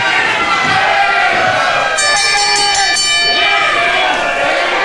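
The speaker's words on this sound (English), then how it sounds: "I don't think ringing the bell's going to do any good here." A wrestling ring bell clangs repeatedly for about a second and a half over a loud, roaring crowd at a live wrestling show, with voices shouting throughout.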